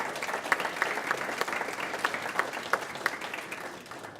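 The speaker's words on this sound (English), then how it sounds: "A round of applause for the senator." Audience at a high school and college academy graduation ceremony applauds a senator, a full, sustained round of clapping with crisp individual claps standing out from the crowd.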